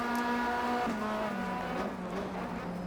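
Race cars run at full speed through Paddock Hill bend in the Race 07 racing game. One engine whines steadily and close, with a pitch drop at a gear change and other cars faintly underneath.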